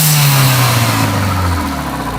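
Renault Mégane RS engine dropping from a rev, loud and close, with the pitch falling smoothly as intake noise rushes underneath.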